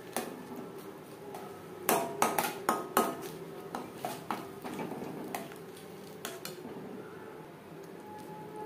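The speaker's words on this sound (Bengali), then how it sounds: "এভাবে নাড়াচাড়া করে ড্রাই করে নেব যতক্ষণ না পর্যন্ত কড়াই থেকে পুরোপুরি ছেড়ে আসছে।" Ground lentil paste being stirred in a kadai until dry, heard as sharp metallic clinks and scrapes of a spatula against the pan, coming in irregular clusters of taps, close and fairly crisp over a quiet background.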